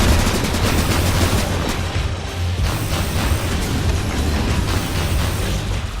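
Rapid continuous firing from a slime cannon in Cryptark, a dense loud stream of punchy bursts with low booming impacts that stays steady throughout, with no talk.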